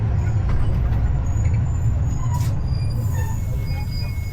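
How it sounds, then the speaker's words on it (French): A steam train idles at Saint-Denis at the end of the line, a steady low rumble filling the scene with faint hissing and clanks above it, before it sets off back in the other direction. "Wir haben jetzt das Streckenende bei Saint-Denis erreicht und der Zug fährt jetzt wieder zurück."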